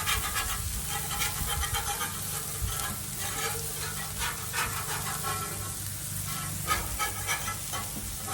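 Smash burgers on a Blackstone griddle: a steady, crackling sizzle running without a break, close and fairly loud, with small pops and faint scraping throughout.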